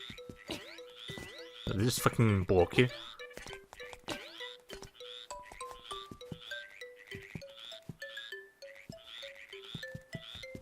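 Frogs croak in a repeating run of short, bouncy, pitched calls in the Zelda: Link's Awakening video game on Switch, heard throughout alongside game music while someone talks briefly near the start.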